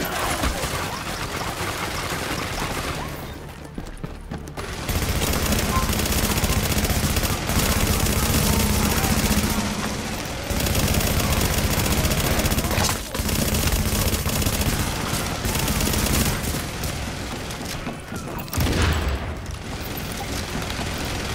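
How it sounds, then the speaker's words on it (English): Sustained machine gun fire in The Division, a PC shooter game, dense rapid bursts filling the scene with brief pauses between volleys, loud and close, with no talk. "Machine guns"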